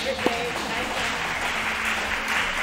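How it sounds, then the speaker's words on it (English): A crowd claps after a Tetris semifinal match at a classic Tetris championship in Vancouver, a steady wash of applause from many hands filling the room, with voices speaking over it. "We got a big round of applause from the crowd."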